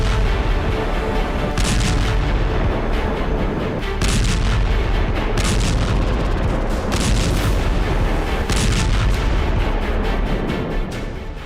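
Heavy artillery fire across a battlefield, a dense, continuous roar of booms and blasts with sharper bursts landing every second or two, loud and unbroken throughout.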